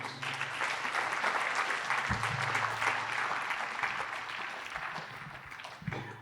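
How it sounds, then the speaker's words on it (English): Audience applause for city representatives at an Atlanta infrastructure package event, a steady dense round of clapping sustained for several seconds and tapering slightly toward the end. "I'd like to ask for your round of applause for our representatives"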